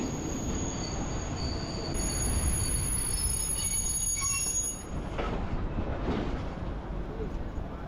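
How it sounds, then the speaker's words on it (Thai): A train bound for Prachinburi rolls by with a steady, heavy rumble while metal wheels squeal in high, shrill tones throughout. "ก็เป็นรถไฟนะครับขบวนนี้ก็จะไป"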